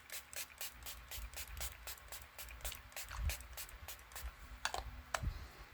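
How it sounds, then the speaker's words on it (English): Milani setting spray misted over a freshly made-up face in a quick, steady run of about fifteen close, hissing pumps, followed by a short pause and a few final spritzes. "I'm just going to use my Milani setting spray to set this face"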